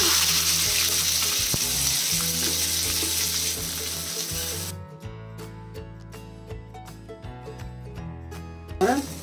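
Onions frying in hot oil give a loud, dense sizzle for the first half, then the hiss drops away and sharp clicks and scrapes of stirring take over, with a brief louder clatter at the end.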